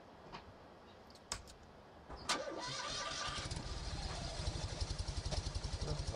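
A car engine in the Farming Simulator 15 video game starts after a couple of clicks, then settles into a steady, rhythmic idle that carries on to the end, close and moderately loud, with no talking.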